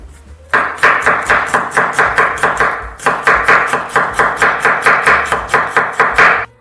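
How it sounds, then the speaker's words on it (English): Four garlic cloves being cut into small pieces on a board, a rapid steady run of crisp knife chops, loud and close, with one short pause partway through and no voices. "For spiciness, I will add garlic. I take 4 cloves"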